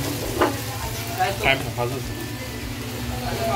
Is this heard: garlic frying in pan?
yes